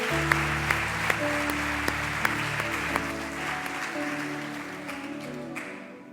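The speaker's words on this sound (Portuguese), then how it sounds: "Você pode dar um aplauso nisso?" A church congregation applauds as a soft, steady wash of clapping beneath a sustained organ or keyboard drone, a few sharper claps standing out before it fades.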